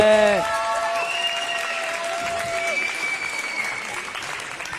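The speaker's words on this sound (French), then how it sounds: "On peut applaudir bien fort l'ensemble des bénévoles, des arbitres et des NSO." Applause from a roller derby crowd for the volunteers, referees and officials at a championship match, a moderate wash of clapping under sustained tonal whistle-like notes, with a voice at the very start.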